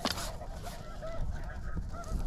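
A flock of snow geese honks continuously during a hunt, many overlapping calls from a moderate distance forming a dense, busy chorus with no talking.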